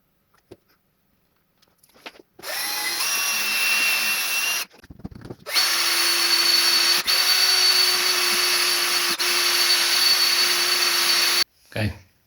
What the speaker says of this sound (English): Let's get a microfiber pad out and let's start polishing.